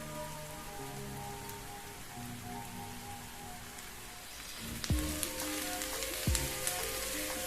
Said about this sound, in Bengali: বারবার সুন্দর করে নেড়ে নেড়ে আমি পেঁয়াজগুলোকে লাল করে ভেজে নেব।